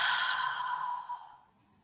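A long, deep exhale during a guided breathing exercise, a soft breathy whoosh that starts strong and fades out gradually, close and alone with no talking.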